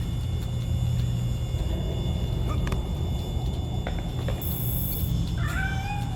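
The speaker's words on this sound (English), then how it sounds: "Is that a cat?" A cat meows in the Gotham Knights video game, brief high calls near the end rising over a steady low rumble and faint game ambience, with no talking.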